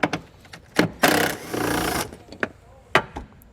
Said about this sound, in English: pry out that section there to reveal the bolt, which we'll remove with a 10mm socket